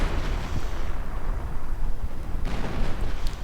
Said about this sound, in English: lots of MG fire, but we are seeing artillery in return